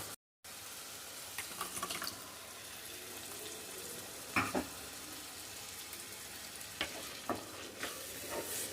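Previously cooked lentils are stirred into a sizzling tomato mixture in a pan for Andhra-style tomato dal. A steady close frying hiss runs throughout, punctuated by occasional scraping clinks from a spoon.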